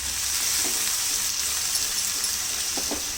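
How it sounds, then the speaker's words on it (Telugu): Mustard seeds and curry leaves sizzle in hot oil, a loud continuous bright hiss with faint crackles and pops running through the whole stretch. "కొంచెం ఆవాలు వేసుకుంటాం, వేసేసుకోవాలి. కొంచెం కరివేపాకు వేసుకుంటామండి."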